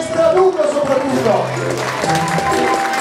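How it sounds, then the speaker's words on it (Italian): An audience claps at a medieval festival event: a steady patter of applause mixed with people talking over it throughout the short stretch. "facciamo un applauso a Maestra Lugo soprattutto"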